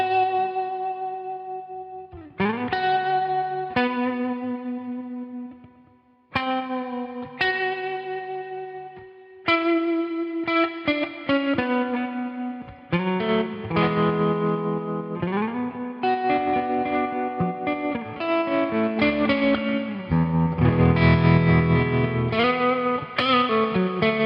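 An electric guitar runs through a NUX Cerberus pedal with reverb, tremolo and boost, playing a song intro as ringing, sustained notes and chords with a shimmering, echoing tail, continuous for about twenty-four seconds.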